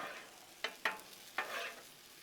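Rice stirred and pushed around a hot griddle, three sharp scraping strokes cutting through a soft steady sizzle, close and fairly quiet.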